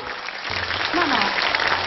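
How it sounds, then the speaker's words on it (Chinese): Studio audience on a variety show breaks into applause, a dense, fairly loud burst of clapping that swells and holds for a couple of seconds. "掌声。"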